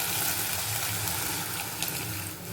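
Kuzhambu gravy for a spicy egg curry poured into a hot pan over high heat, a steady dense wash of liquid pouring and sizzling, close and fairly loud throughout.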